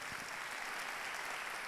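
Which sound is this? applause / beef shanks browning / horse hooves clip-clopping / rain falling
applause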